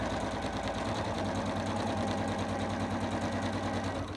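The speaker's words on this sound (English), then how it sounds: "I am just literally using 1/4 inch stitch, okay, and sewing this all the way round." A sewing machine runs a steady quarter-inch stitch around a fabric overlocker cover, its needle chattering in a fast, even rhythm, close and continuous with no talking.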